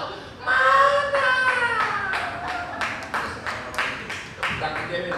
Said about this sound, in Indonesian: Tepuk tangan dia, tepuk tangan dong semua.